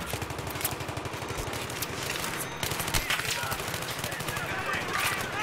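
Gunfire in the video game Battlefield 3, rapid automatic bursts and repeated shots sounding steadily throughout, with people talking over the shooting.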